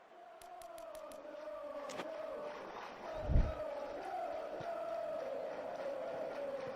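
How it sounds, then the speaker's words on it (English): A stadium crowd in the PES 2021 football video game roars in a broad, sustained wash of cheering, with a thump midway and faint clicks early on. "Crowd appreciates good football all round there."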